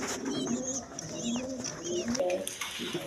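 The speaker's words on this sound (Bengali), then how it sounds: "এখানে এক পেয়ার কিং কবুতর আছে" A pair of big King pigeons and their chicks coo close by in a loft, several soft rolling coos in quick succession with faint chirps, alongside brief low speech.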